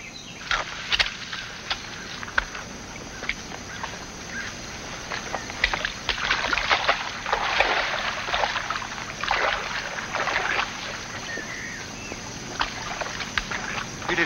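Scraping, knocking and splashing of a small boat being dragged into a river at the water's edge, with irregular thumps and trickling water, fairly quiet.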